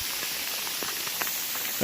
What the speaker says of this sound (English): little smaller than pea-sized hail